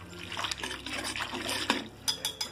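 Cold water poured for a cornstarch slurry in a kitchen while making corn empanadas, a steady liquid splash close by with light clinks of dishes and utensils.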